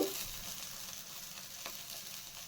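Whole spices like cinnamon stick crackle and sizzle in hot oil in a pan for chicken chops, a close, steady frying hiss with no voices.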